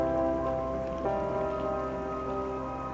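A waterfall in the Old Man's Journey video game gives a steady, even rush of falling water like heavy rain, holding at a constant level throughout beneath sustained tonal background music, with no voices.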